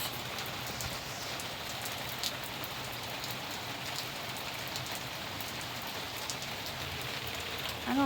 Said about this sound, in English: Rain at last!